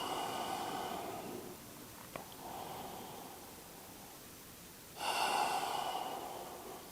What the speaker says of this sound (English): One more deep, full breath.